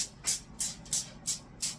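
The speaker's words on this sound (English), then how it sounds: "But I'm still going to spray the bottom" Five short, bright hissing bursts of cooking spray onto a foil-lined sheet pan come in a steady rhythm, close and fairly loud, with a quiet pause between each burst.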